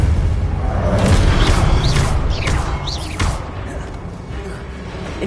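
Confringo blast spells going off in the Harry Potter game Hogwarts Legacy: loud, dense booms and crashing impacts over a constant roar of battle effects, with whooshing sweeps in the high range and no clear pause.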